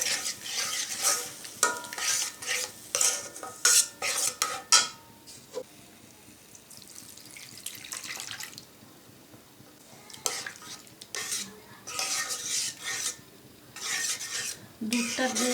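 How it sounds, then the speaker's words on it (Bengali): Semolina being stirred continuously with milk in a pan for pitha dough, a steady scraping, rasping stir with soft sizzle, close and fairly loud, in irregular bursts with brief pauses. "দুধটা দিয়ে কিন্তু নাড়তে হবে অনবরত, একটা নরম ডো তৈরি করতে হবে"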